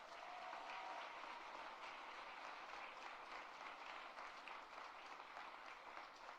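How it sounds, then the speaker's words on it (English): A crowd at the Lunabotics robotics challenge applauds the top 10 teams. Steady, fairly faint clapping from a large gathering lasts throughout, with no pauses. "a round of applause for the top 10,"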